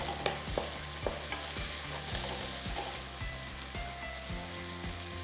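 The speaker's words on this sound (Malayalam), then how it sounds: "നന്നായിട്ട് കുക്ക് ചെയ്ത് എണ്ണ വിട്ട് വരണം, എണ്ണ സെപ്പറേറ്റഡ് ആവണം." Tomato masala cooks in oil in a pan for dal, a soft continuous sizzle with occasional stirring clinks and scrapes, quiet and close, no talking.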